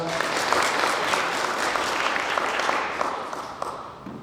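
Audience applause at a training session for school sports team staff, a dense, even roar of many people clapping that holds steady and then begins to taper off toward the end.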